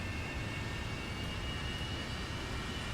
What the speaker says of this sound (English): you can see that the engines are spooling